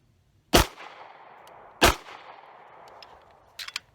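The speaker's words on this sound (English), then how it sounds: "So 2 shots of 9mm." Two loud, sharp 9mm pistol shots from a TR Imports handgun strike a bulletproof backpack, spaced over a second apart, each cracking with a ringing decay; a few faint metallic clinks follow near the end.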